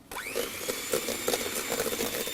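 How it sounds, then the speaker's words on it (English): An electric mixer whisking eggs into toffee apple cake batter spins up with a rising whine, then runs at a steady, close motor whir with faint rhythmic knocks of the whisk. "we'll get this back on, keep it whisking away"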